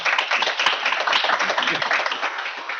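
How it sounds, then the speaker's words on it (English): Audience clapping at the close of a knowledge-sharing seminar, a dense, even round of many hands close by, sustained for nearly three seconds with a few voices mixed in. "I would like to thank the speakers very, very much and to give a round of applause."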